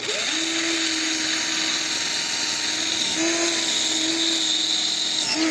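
A power drill whines steadily at high speed while cleaning parts from a Znen Tommy 125 scooter during restoration, its loud continuous tone dipping and rising slightly as the load changes, with no talking.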